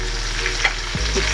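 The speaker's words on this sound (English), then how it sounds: "Keep stirring." Nigerian stew frying in a pot while being stirred, a dense steady sizzle with a faint scrape of the spoon.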